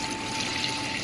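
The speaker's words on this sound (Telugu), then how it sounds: "ఇప్పుడు కుక్కర్లో వాటర్ తీసుకుంటున్నా" Water runs into a pressure cooker, a brief close steady pour with no speech.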